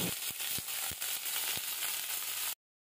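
Chopped cabbage fries in mustard oil in a pan, giving a steady close sizzling hiss with a few soft crackles, then cutting off abruptly to silence near the end.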